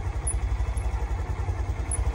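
A motorcycle engine idles in gear while the clutch is eased toward engagement, a close, steady low thumping pulse repeating rapidly without speech.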